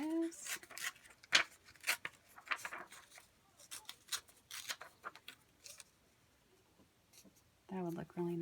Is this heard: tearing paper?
yes